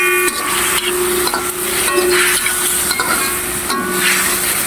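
Vegetables stirred in a pan for a harvest-fresh dish, a spoon scraping and clinking against the metal in repeated strokes over a steady close sizzle, with no talking.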